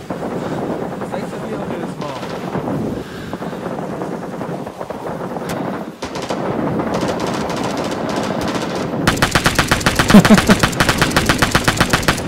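Gunfire in the Vietnam War shooter Rising Storm 2: Vietnam, with scattered single shots and bursts giving way to a loud, rapid automatic rattle near the end, mixed with wind-like ambience and faint voices.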